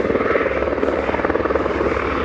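A helicopter hovers over a business park, its rotor making a steady, rapid chopping thrum, fairly loud and continuous, with no voices over it.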